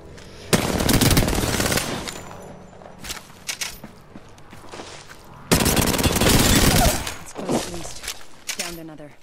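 Gunfire in Apex Legends, with two long, loud, close bursts of rapid automatic fire separated by sparser shots and scuffling, while a voice talks between the bursts.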